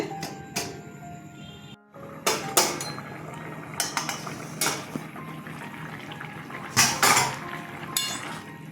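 A metal lid clatters onto a cooking pot holding bottle gourd greens with poppy seeds and lentil fritters, giving several sharp clinks and knocks among softer kitchen clatter, close by with no talk.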